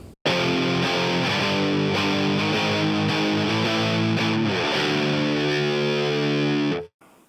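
A heavily distorted electric guitar rings out in dense sustained chords for several seconds, loud and saturated, then cuts off abruptly.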